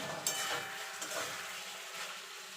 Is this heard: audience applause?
no